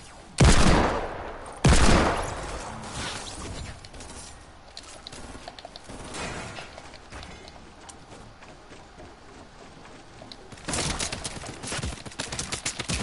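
Gunfire from a gun in the Fortnite video game: two loud, sharp bursts of rapid shots early on, a quieter patter of distant fire through the middle, then another dense run of shots near the end.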